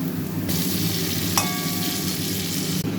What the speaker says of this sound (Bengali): আমার কাজু কিশমিশগুলো একদম ভাজা হয়ে গেছে।